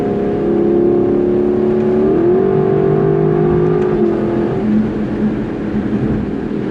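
A 2021 Lexus LC 500 Convertible engine revs up strongly and holds a loud, rising drone with exhaust crackles, then eases off toward the end. There is no speech.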